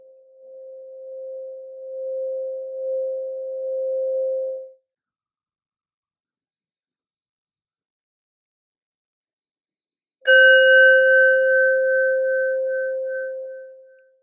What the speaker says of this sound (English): I'm going to ring the bell one more time.